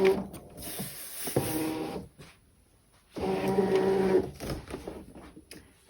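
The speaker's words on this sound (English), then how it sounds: "So I'm going to load the mat into the machine." A ScanNCut cutting machine draws a cutting mat in, producing two short mechanical whirring bursts with a quiet pause between them, close and moderately loud.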